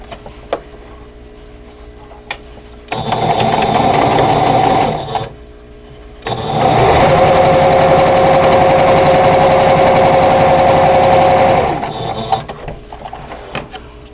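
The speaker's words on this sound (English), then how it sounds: "now I can sew them all together." Sewing machine joining vintage tulip quilt block pieces, a loud, close motor whirr in two runs: a short burst, then a longer steady stretch, with brief quieter gaps and no talk.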